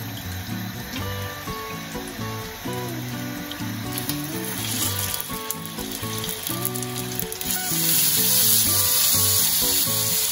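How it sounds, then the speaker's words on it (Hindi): Chicken reshmi kebabs frying in oil on a tawa: a loud, continuous close sizzle with scattered clatter, swelling even louder in the final few seconds. "अब हम इसे तवे के ऊपर ग्रिल करेंगे।"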